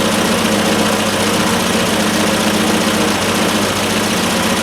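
Triumph Spitfire engine idling at about 1,000 RPM, a loud, steady, close mechanical drone with a dense even texture and no variation in pitch, with no talking.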